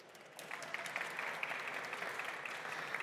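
A conference audience breaks into steady applause that swells quickly after a brief quiet start, sustained clapping from a sizable crowd heard close.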